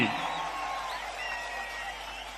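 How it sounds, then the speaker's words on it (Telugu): A large crowd at a public meeting in Kuppam constituency claps and cheers in approval, a dense, steady wash of applause with whoops rising above it, continuous for the whole stretch. "గట్టిగా చప్పట్లు కొట్టి కూడా చెప్పండి ఆమోదిస్తామని"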